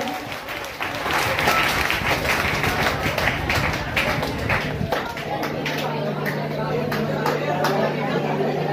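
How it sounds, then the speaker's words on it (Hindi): Students at a coaching centre's results ceremony applaud Dr. Nitish with dense, steady clapping that runs nearly the whole time under a low hum, while a voice carries on over it. "जोरदार ताली बजाते रहेंगे डॉक्टर नीतीश सर के लिए।"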